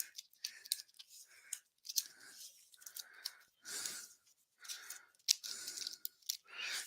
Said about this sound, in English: And we'll reshuffle.